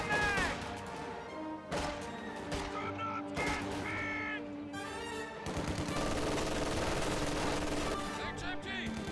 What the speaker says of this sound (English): MG42 suppresses a conscript squad over here on the left